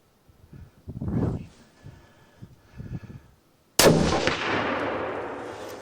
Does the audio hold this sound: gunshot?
yes